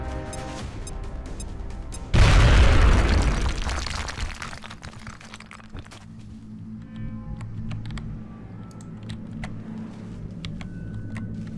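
A frag grenade detonates in XCOM: Enemy Within, one sudden loud blast whose rumble trails off over a couple of seconds, with quiet game music tones continuing around it.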